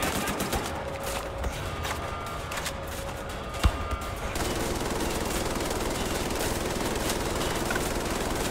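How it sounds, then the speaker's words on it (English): Sustained gunfire in the shooter Wolfenstein: The New Order, a dense rapid machine-gun rattle running throughout at steady loudness, with one sharper blast partway through and no speech over it. "I think somebody else is shooting me from somewhere right next to me."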